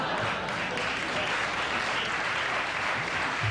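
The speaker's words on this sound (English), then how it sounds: "Sure, you always applaud that kind of a joke" Studio audience applause from a late-night talk show taping fills the whole stretch, a steady dense wash of clapping at close, even loudness with no voices over it.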